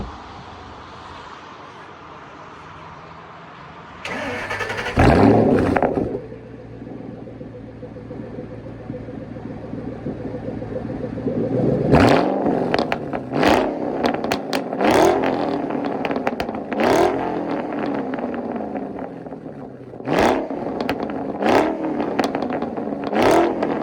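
A Ford Shelby GT500 engine revs in several sharp blips after a loud initial roar, each burst rising and falling with crackling exhaust between them, close and loud with no talking.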